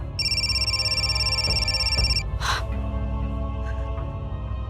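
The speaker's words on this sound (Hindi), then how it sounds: "कौशिक, मैं कब से फोन कर रही हूँ, फोन क्यों नहीं उठा रहे थे?" A telephone rings in a bright electronic trill for about two seconds, then stops; a short breathy gasp follows amid low background sound.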